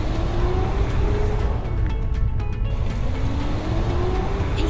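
A car driving along a road, a steady loud engine drone with a gradually shifting tone as it accelerates, smooth and continuous throughout.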